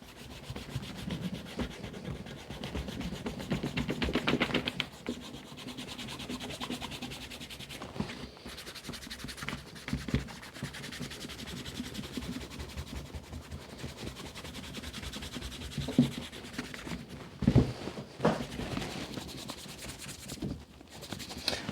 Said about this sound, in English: let's see if that will rub off with the suede eraser